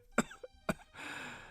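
Cartoon old man coughing loudly, two sharp hacking coughs close together, followed by a rough, breathy wheeze.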